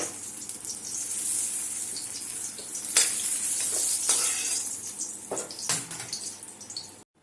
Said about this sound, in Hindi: बाकी भी हम इसी तरीके से फ्राई कर लेंगे